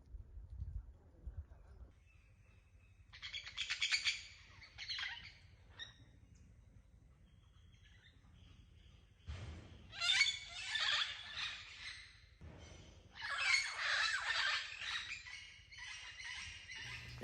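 Parrots in a Guatemalan jungle let out harsh, squealing calls in three bursts, moderately distant, with quiet gaps of faint background between them.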